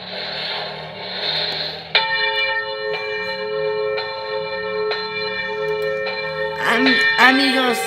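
A church-style bell in a Minecraft-style video game rings with repeated clear metallic strikes at steady intervals, each ring sustaining into the next, over ambient game noise with a voice near the end.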